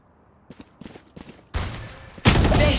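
Gunfire in the tactical shooter Valorant: a few quiet, spaced shots early, then two loud bursts of rapid fire close by, the last one harsh and sustained.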